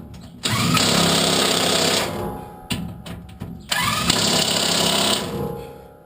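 DeWalt DTW 1002 cordless impact wrench on a Hilux teardown, two loud close bursts of rapid hammering rattle separated by a brief pause, with no talk.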